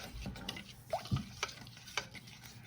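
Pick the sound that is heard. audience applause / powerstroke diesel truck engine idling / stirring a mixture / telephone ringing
stirring a mixture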